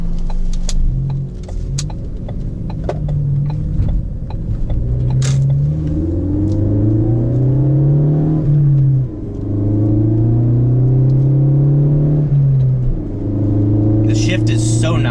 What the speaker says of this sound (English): Just do a little sound clip, that way you guys can just hear the car and not me talking.